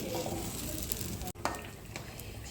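Slices of white bread fry in a pan over a low flame with chili flakes, giving a soft continuous sizzle broken by a brief lid or utensil clatter midway.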